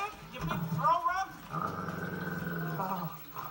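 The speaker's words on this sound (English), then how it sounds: "Nice dog." A big dog from a Toy Story 2 animated film trailer growls loudly and continuously for a couple of seconds, following a burst of character speech.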